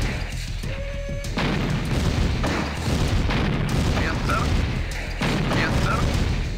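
Dense, continuous booms and gunfire crackle in the real-time strategy game Command & Conquer: Red Alert as enemy fire pounds a Soviet ore harvester, a busy layered barrage with a brief tonal game sound at the start.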